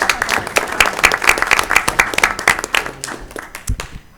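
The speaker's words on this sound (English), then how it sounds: "So we can give them a big round of applause along with the rest of their team." Applause from the audience at a school board meeting, a dense burst of many hands clapping that fades into scattered claps and stops after about three seconds.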